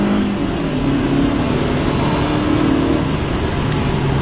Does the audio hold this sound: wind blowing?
no